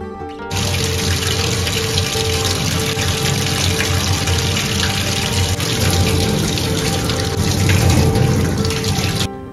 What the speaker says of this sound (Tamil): எடுத்துகிட்டு இதை தண்ணியில் நல்லா வாஷ் பண்ணிக்கலாம்.